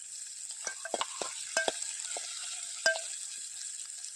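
Drumstick leaves are sautéed in a pan, a faint soft sizzle with a few sharp scrapes and clinks of a spatula against the pan, close and quiet, with no voices.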